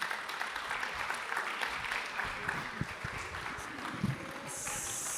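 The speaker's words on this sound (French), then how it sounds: "On applaudit en attendant" An audience at a peace-themed talk applauds in a steady, dense wash of clapping that holds for several seconds at moderate volume, with a few voices faintly mixed in.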